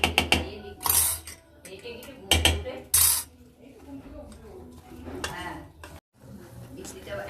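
Batter for a homemade cake being beaten with milk in a bowl, with clattering utensil strikes in rhythmic bursts against the bowl between softer stirring, while voices talk now and then.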